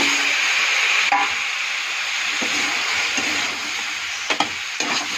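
Vegetables seasoned with turmeric and salt fry in a pan and are stirred, giving a loud continuous hiss and sizzle with a few clinks and scrapes near the end.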